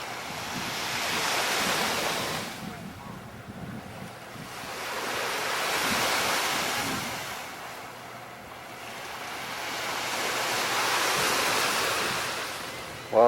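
Surf rolls onto the white sandy beach at Romar in slow swells, each wave building and fading over a few seconds, with wind buffeting throughout and no talking.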